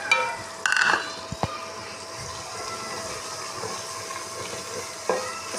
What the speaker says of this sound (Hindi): इसको अच्छी तरह से करेंगे फ्राई।